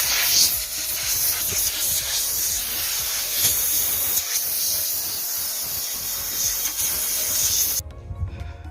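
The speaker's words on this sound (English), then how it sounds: "So I've air dusted, and that's basically to blow all of the fine dust out of the pores." Compressed air blasts in a continuous loud hiss, blowing fine sanding dust off a wooden sofa frame, with slight scuffing under it before it stops abruptly near the end.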